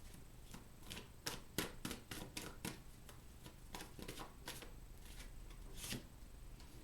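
Tarot cards are shuffled near the mic in quick bursts of soft flapping riffles, with short pauses between them.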